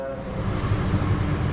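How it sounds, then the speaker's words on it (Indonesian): The Pangandaran passenger train, running from Gambir toward Bandung and Banjar, rumbles past with a loud, steady, low roar that fills the whole moment at close range. "itu kereta api Pangandaran yang lewat dari Gambir tujuan Bandung ya, sampai dengan ke Banjar"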